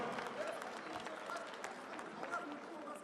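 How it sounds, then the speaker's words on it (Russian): An audience at a fight event in Kazakhstan claps in a steady, fairly distant wash of applause that lasts the whole short moment, with an announcer's voice present. "Дамы и господа, ваши аплодисменты."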